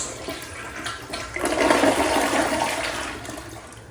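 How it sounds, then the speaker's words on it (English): A toilet flushes after the cold water supply is shut off, emptying the bowl. The close, rushing swirl of water builds after a second and stays strong to the end, with no talk over it. "we're going to give the toilet a flush in order to empty the water out of the bowl"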